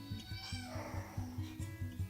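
Several foster kittens meow in a household, with a steady pattern of short repeated calls close by, mixed with faint background noise and no talking.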